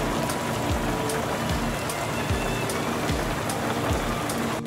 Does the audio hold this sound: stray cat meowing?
no